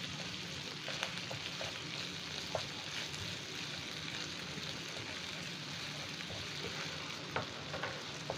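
Mustard paste frying in oil with spices for a Bengali koi fish dish, a steady low sizzle with occasional soft pops and stirring clicks, no talking.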